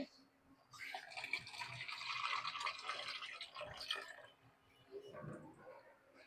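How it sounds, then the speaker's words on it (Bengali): Water pours into a simmering pumpkin, eggplant, potato and tomato egg curry to make the gravy, a soft splashing trickle that swells and fades over a few seconds, then a brief wet slosh, all fairly quiet. "দিয়ে দিলাম জলের পানি"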